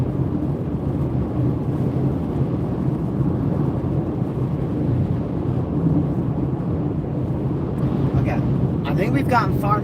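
Deep, continuous rumbling thunder rolls from a storm during a tornado warning chase, heavy and steady throughout, with brief faint voices appearing near the end.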